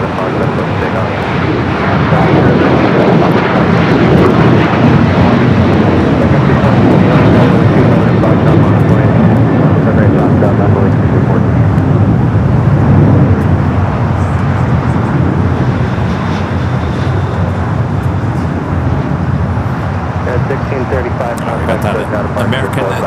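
A jet airliner takes off from LAX with a loud, steady roar of engine noise that holds throughout, while voices talk over it.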